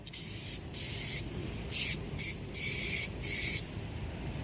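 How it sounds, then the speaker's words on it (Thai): Fine foam tire-coating spray hissing from an aerosol can onto a tire, several bursts of about half a second each in steady rhythm, close and fairly loud. "ไอตัวละอองไอโฟมมันอะ เห็นไหม น่าจะฉีดได้หลายรอบ"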